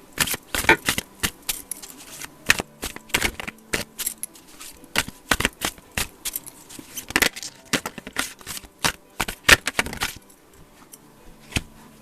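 Tarot cards shuffled and drawn one by one in a reading, making crisp clicks, snaps and flicks in uneven bursts, close and clear, with no talking.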